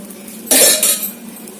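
A lid set onto a pot of cooking ragi mudda (finger millet dough): one short metallic clatter with a brief follow-up rattle, close and fairly loud, over a steady low kitchen hum.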